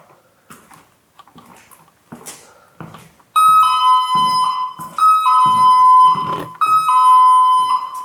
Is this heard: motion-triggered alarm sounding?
yes